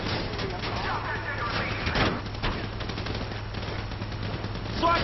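Rapid bursts of automatic gunfire crackle through a GTA V shootout against a private army, with sustained volleys and a few sharper cracks, while people talk over the action.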